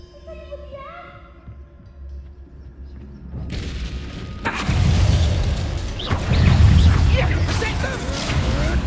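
Spells blasting in combat in the video game Hogwarts Legacy: after a calmer opening with a thin tonal sound, loud booming explosions and rumbling impacts crowd in and keep going densely to the end.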